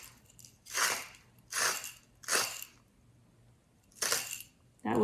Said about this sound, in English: I've got a grinder here, and I need 1/4 teaspoon of salt. And I got to grind it